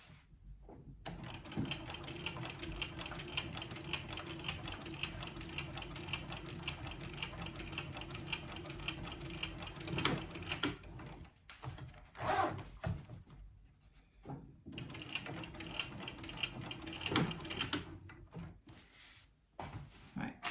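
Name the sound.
sewing machine top stitching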